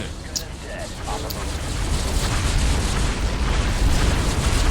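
Gunfire and explosions from a strategy video game battle with turrets, a dense rumbling mix of booms and bursts that swells louder toward the end, with a voice talking over it.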